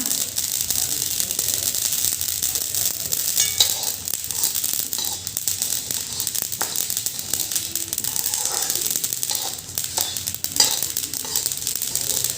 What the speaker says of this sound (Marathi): हे मोहरी चांगले भाजले चाललेत व्यवस्थित भाजून घ्यायचे आपल्याला